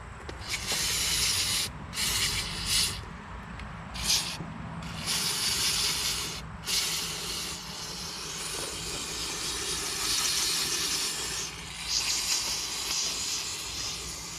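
Pressurized cleaner sprays through the holes of a walk-behind string trimmer part in long, loud hissing bursts with brief gaps, close up and steady over the whole stretch.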